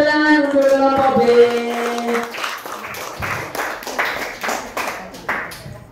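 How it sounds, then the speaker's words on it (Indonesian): Children in a classroom clap for a group, scattered rhythmic claps building after a sustained tonal voice or sound at the start, continuing unevenly throughout. "Tepuk tangan untuk kelompok B"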